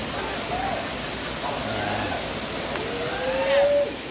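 Bolinao Falls in Bolinao, Pangasinan, pouring as a steady broadband rush of falling water, even and continuous, with faint voices in the background.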